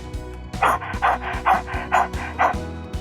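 A person imitates a dog panting with rapid, rhythmic breathy huffs, about six quick pulses, close and fairly loud.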